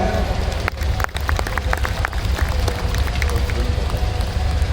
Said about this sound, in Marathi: एकदा आपल्या वादक कलाकारांसाठी जोरदार टाळ्या